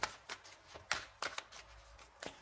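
Tarot cards being shuffled, a few quick riffling bursts close to the microphone, soft and alone.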